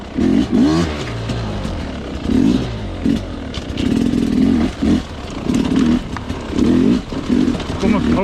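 Sherco dirt bike engine pulling in first gear up a small step on an extreme offroad trail, revving in repeated surges and throttle blips with clatter, loud and close throughout.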